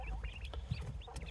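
A rooster and four Pharaoh quails give faint, scattered clucks and short chirping calls over a low background hum.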